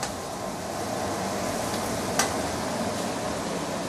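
Korean BBQ meat cooks at home with a continuous, even sizzle and crackle, steady and fairly close, with one sharp tap about two seconds in and no voices.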